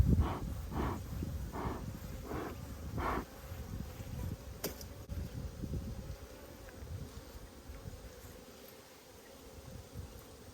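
Bees buzzing around a beehive nucleus, a close, steady insect drone with a few soft rhythmic pulses early on, fading slightly toward the end.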